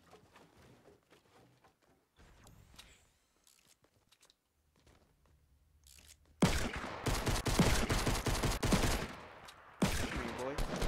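Rapid bursts of gunfire from the video game Fortnite, first scattered faint shots and footsteps, then a loud sustained volley of many shots for several seconds, a pause, and another burst.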